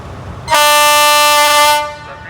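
Horn of an Alsthom 4115 diesel locomotive hauling express train 86 from Nakhon Si Thammarat to Bangkok, running late: one loud, sustained, harmonic-rich blast of under two seconds that fades out at the end.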